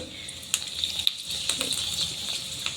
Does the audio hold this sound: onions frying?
yes